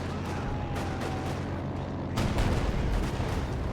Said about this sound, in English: Be warned, Axis, because the B4 is going to fire.